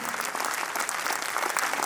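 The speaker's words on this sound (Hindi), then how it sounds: "तालियां कमजोर है आपकी" An audience at a memorial event claps continuously, a dense and steady patter of many hands with no talk over it.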